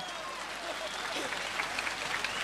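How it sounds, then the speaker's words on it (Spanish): Broad audience applause at a year-end cultural celebration with a live tropical band, a steady wash of many hands with a voice talking over it. "Fuerte el aplauso."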